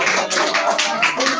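A classroom of students gives themselves a round of applause, a short burst of dense, steady hand clapping from many pairs of hands, close and loud with no talking over it.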